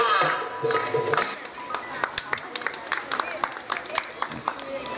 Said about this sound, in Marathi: हे थोडेसेच लोक टाळ्या वाजवतात